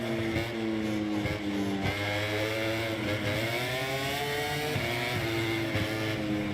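Racing motorcycle engine in the video game MotoGP 24, loud and close, revving up and down through repeated gear changes as the pitch climbs, drops and climbs again.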